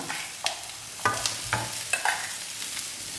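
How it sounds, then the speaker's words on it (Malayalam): Mashed boiled potato going into a pan of sautéed onion for a vegetable samosa filling, with soft sizzling and several scraping stirs of a spoon against the pan, close up. "ഈ പൊട്ടാറ്റോ പാനിലോട്ട് ചേർക്കാം."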